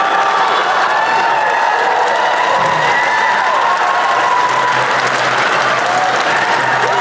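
A dinner crowd greets a surprise appearance by Pierre Poilievre with loud, dense applause and cheering that stays at full strength throughout, with whoops and shouts rising above the clapping.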